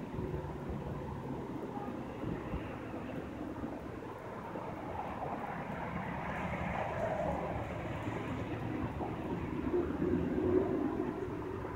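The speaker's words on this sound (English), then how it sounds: "It's an auto rack train, Norfolk Southern." A Norfolk Southern auto rack freight train passes slowly as a low, continuous distant rumble, swelling gradually louder toward the end with no distinct wheel clicks.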